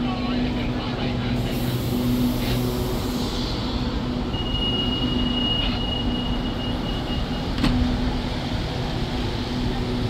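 The Thaksinarat special express train 31 stands at Ban Pong station with a steady low rumble and hum around it. A voice talks over it, and a faint tone and a brief sharp clank come and go.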